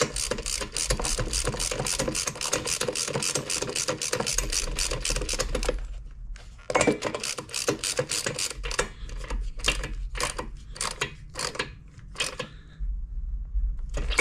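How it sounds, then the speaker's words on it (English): A ratchet wrench clicks rapidly and steadily while tightening the spark plug on a Vespa P200 scooter during a rebuild, close and crisp, followed by a pause and then slower, irregular bursts of clicking. "I'll go ahead and tighten the spark plug back on"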